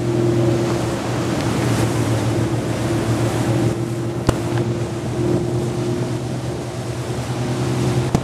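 Boat engine droning steadily with a low hum while waves and wind wash around the hull on approach to Pagan island, continuous and fairly close, with no talking.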